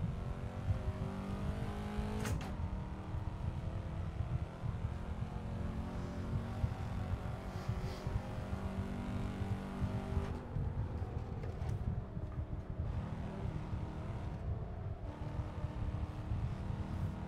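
McLaren MP4 race car engine in a racing video game, a steady loud droning roar held throughout with brief shifts in pitch, close and continuous with no talk.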